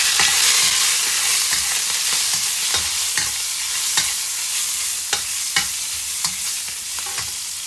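Chili stir-fried in a pan sizzles with a steady bright hiss, sharp crackles and spatula scrapes popping through at irregular intervals, close and loud with no talking.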